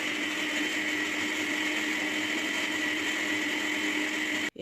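A blender whirs steadily as it blends melon seeds into seed milk, a loud continuous motor drone with no talk, cutting off abruptly at the very end.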